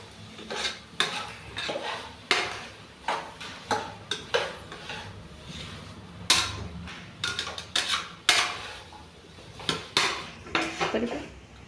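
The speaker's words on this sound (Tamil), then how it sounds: "கிண்டு கிண்டு நல்லா கிண்டு" Beans, potatoes and other vegetables for a vegetable biryani are stirred in a pot with a metal spoon, giving irregular clanking scrapes against the pot over a faint sizzle, close and loud.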